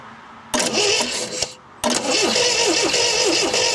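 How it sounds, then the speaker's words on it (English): The engine of an MGB being restored is cranked over by the starter without firing. The cranking whirs loud and close in two bursts, the second longer and steady, with a brief click-filled pause between them. "what we really want to do now is kind of crank the engine over"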